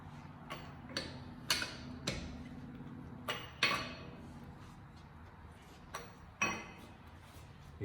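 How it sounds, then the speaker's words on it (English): A lug wrench tightening the wheel nuts on a Toyota Camry after a flat tire swap, giving sharp, irregular metallic ticks and clinks, close and fairly quiet, about a dozen spread over several seconds. "Using the key to lock this one bolt, nut side."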